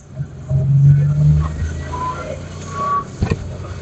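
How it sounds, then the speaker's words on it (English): A Porsche 930 engine revs and pulls with low rumbling, then a couple of sharp exhaust pops crackle near the end. "I love the pop on that exhaust."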